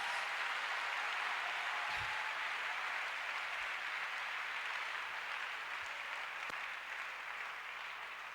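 A church congregation applauding together in acclaim of the Lord, a dense, sustained wash of clapping that holds steady for several seconds and tapers slightly at the end.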